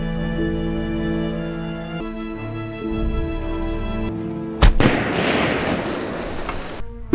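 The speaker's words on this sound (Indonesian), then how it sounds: "militer Venezuela menembak mati si nelayan" Gunfire in a film scene as Venezuelan soldiers shoot a fisherman: a sharp loud burst of shots cuts through a held musical score, followed by a noisy crackling blast trailing off.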